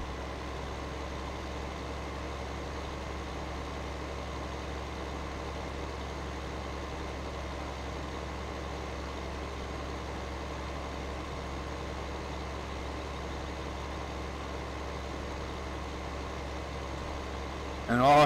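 Tractor engine idling in the Farming Simulator 15 video game, a steady low diesel drone holding evenly throughout, with a brief louder burst at the very end.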